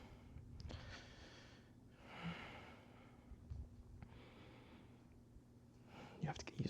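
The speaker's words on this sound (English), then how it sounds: "You have to get used to my heavy breathing." Heavy, audible breaths come in several loud puffs and sighs up close, spread through the stretch with short quieter gaps between them.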